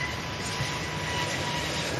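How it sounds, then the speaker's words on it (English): An easyJet Airbus A320neo touches down, heard as a steady, fairly loud broadband jet roar that holds without a break throughout. "EasyJet Europe A320 touching down."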